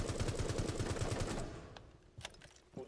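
Rapid automatic gunfire from a 12-round burst in Rainbow Six Siege, played on PS4, rattles loud and close for about a second and a half, then stops, leaving a few faint, scattered clicks and thuds.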